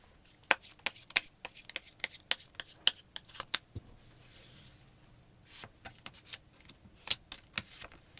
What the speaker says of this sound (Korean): 3번 분들의 3가지 행운 카드 뽑아보겠습니다